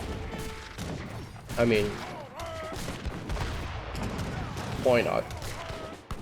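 Mortars fire at a siege target in the real-time strategy game Age of Empires III, heard as scattered booming shots and crackling battle noise beneath continuous excited commentary.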